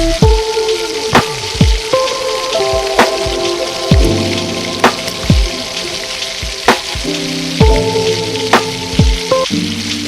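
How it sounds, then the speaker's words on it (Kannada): Chopped onions fry in oil in a pot with a steady, loud sizzle, punctuated by regular clinks and scrapes of a spoon stirring against the metal. "ಕೆಂಪು ಬಣ್ಣ ಬರುವಾಗ ಫ್ರೈ ಮಾಡುತ್ತಾ ಇದ್ದೀನಿ."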